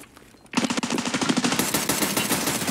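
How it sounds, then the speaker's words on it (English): Rapid automatic gunfire in Escape from Tarkov erupts suddenly after a quiet moment and continues as a loud, fast string of close shots. "I shot him 4 times in the chest and he didn't die."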